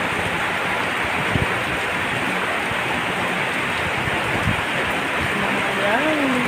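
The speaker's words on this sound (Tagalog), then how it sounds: "Thank you sa ulan. Thank you ulan. Ngayon lang umulan ulit." Steady rain falls outdoors in hot weather, a dense, even hiss with low patters running continuously and loudly throughout, with a brief tonal rise near the end.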